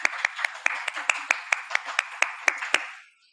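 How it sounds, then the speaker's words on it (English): Claps ring out at a reading event, about a dozen sharp, evenly spaced hand claps in a steady beat, close and clear, then cutting off into silence. "One more time, round of applause."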